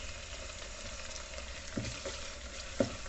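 Onions frying in a pan for aloo palak pulao give a soft, continuous sizzle, with a couple of faint stirring scrapes.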